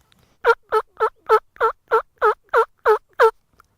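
Wild turkeys, a hen with several young jakes, gobble in a rapid run of about ten evenly spaced, loud, clear calls, followed by silence.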